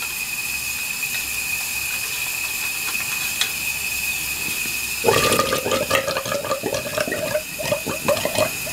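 Engine of a neglected Wheel Horse riding mower with bad piston rings gurgling, a steady running drone that turns into wet, bubbling crackles partway through, close and moderately loud with no talking.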